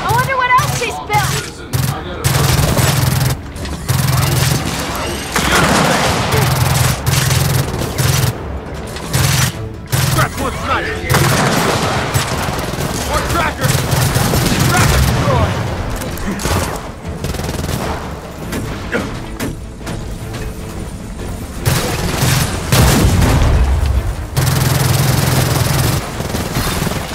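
Sniper shots and dense gunfire rattle in Gears of War 4 combat, with loud, continuous bursts and booms filling the whole stretch and occasional voices mixed in.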